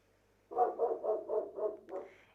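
A dog barks six times in a quick, steady run at moderate distance, with quiet surroundings before and after.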